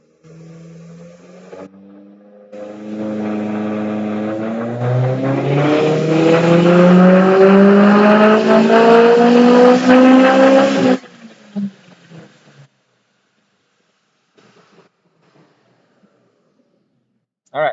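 Turbocharged Subaru EJ207 engine with Kelford cams, a 20G turbo, Link G4X ECU and flex fuel on a dyno pull, a loud close rev climbing steadily in pitch for about eight seconds before cutting off, then near silence.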